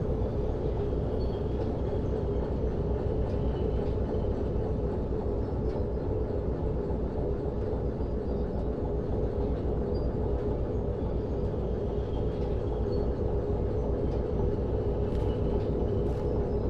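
A diesel locomotive hauls along in Derail Valley, its engine a constant low rumbling hum with steady mechanical clatter, unbroken and even in level for the whole stretch, with no voices.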